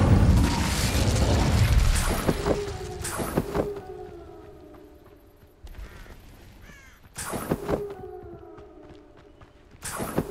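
Incendio fire spell cast in Hogwarts Legacy, heard as loud whooshing bursts with booming impacts amid game ambience and music, recurring in two main waves.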